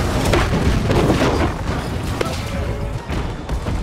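Siege cannon fire during a fort assault in the online game New World, loud booming blasts blended into a dense roar of battle noise, with players talking over the din.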